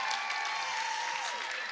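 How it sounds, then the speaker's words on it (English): Faint, steady clapping from an audience at a summer camp stage performance, heard briefly with a thin ringing tone over it. "Yes, give another round of applause."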